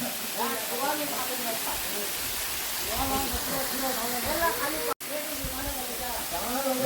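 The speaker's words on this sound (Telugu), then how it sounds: "చాలా అద్భుతంగా ఉంది వాటర్ ఫాల్స్ చూడండి" Waterfalls near a temple send out a constant hissing rush of falling water, with voices talking over it nearly the whole time.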